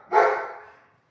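A dog gives one loud, close bark that fades quickly into quiet.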